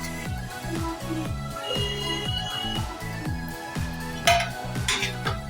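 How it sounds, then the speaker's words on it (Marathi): A spatula rapidly scrapes and taps a metal pan while paneer chilli is stir-fried with capsicum and spring onion, a steady rhythmic clatter that repeats several times a second. "ते सगळं परतवून घेऊया"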